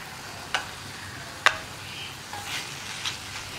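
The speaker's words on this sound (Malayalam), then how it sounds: "ഇടയ്ക്കൊന്ന് ഇളക്കി കൊടുക്കുക" Tomatoes frying in a pan on high flame for a Kerala tomato fry, a soft sizzle broken by a few sharp clicks and scrapes of a spoon stirring.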